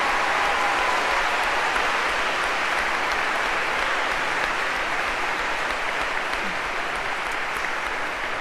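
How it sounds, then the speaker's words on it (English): Large congregation giving a round of applause for the graduating class of 2026 at a Frances Xavier Warde baccalaureate Mass and graduation ceremony, a dense, even wash of clapping that holds steady throughout, heard from within the crowd. "I have one more wonderful round of applause for the graduating class of 2026"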